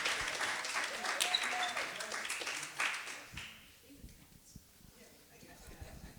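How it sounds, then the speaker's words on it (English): Audience at a poetry cafe claps and cheers for a performer, a dense burst of applause for about three seconds that thins out into scattered claps and quieter room sound. "please, clap your hands, make the noise for the wordsmith, Steve Rice."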